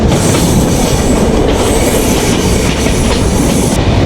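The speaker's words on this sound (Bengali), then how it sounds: "এই বেনাপুল এক্সপ্রেস খুব সুন্দর একটা ট্রেন" A Benapole Express passenger train in Bangladesh runs steadily with a loud, continuous roar and wheel rumble, its rhythmic clatter and faint squeal heard close, with no voices over it.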